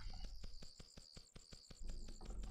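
In the nature ambience of the Cube World Alpha video game, crickets chirp in a regular, evenly spaced train of short pulses with brief pauses, moderately quiet and steady.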